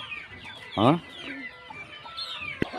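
Country chickens and a rooster cluck and squawk nearby, with one loud harsh call standing out, amid scattered bird chatter and a sharp knock near the end.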